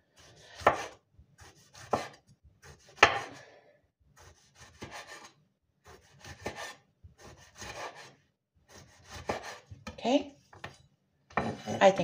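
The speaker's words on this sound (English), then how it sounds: "Okay, next. I cut tomato." Knife chopping a sweet tomato on a board, a series of separate crisp cuts and scrapes with short pauses between them, close and fairly quiet.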